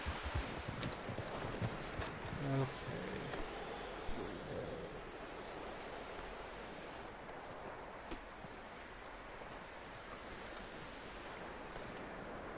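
Horse hooves clip-clop in Red Dead Redemption 2, a quick rhythmic run of hoofbeats near the start settling into softer steps over a constant windy, surf-like outdoor ambience, with no talking.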